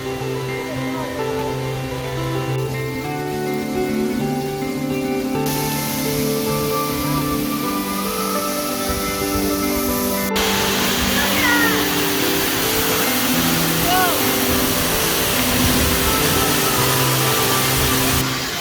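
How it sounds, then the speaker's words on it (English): Waterfall spray pours in a constant heavy hiss and rush from a spot standing behind the falling water on a road trip, with voices talking over the roar throughout. "What a way to finish the day, under a waterfall."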